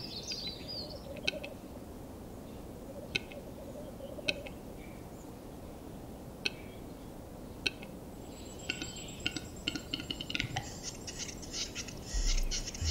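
A black grouse (heathercock) calls in a forest, its repeated bubbling, gobbling notes coming at intervals over a steady low rumble of background noise, with a denser burst of calling toward the end.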